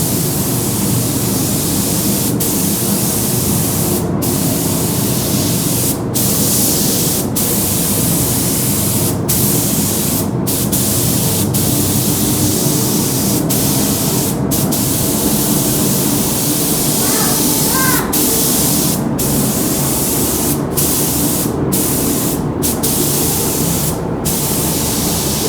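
An aerosol can sprays paint onto a Traxxas Maxx RC car shell in one continuous, loud hiss. Short clicks break in now and then, and a faint voice can be heard under the spray.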